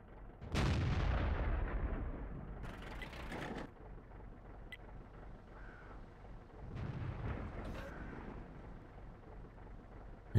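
Tank cannon fire in the World of Tanks game, from an Obj 268 vehicle: a sharp, heavy boom followed by a lingering rumble, then a second, softer blast and later a third muffled shot with mechanical clanks between them.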